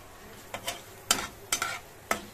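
Dal is stirred in a pot with a spoon, giving a few brief scraping strokes spaced about half a second apart over a quiet background, with no talking.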